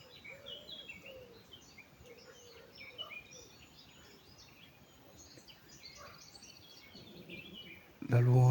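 Faint birds chirping and singing far off in an outdoor setting, scattered calls over a low background hush, with a louder bump at the very end.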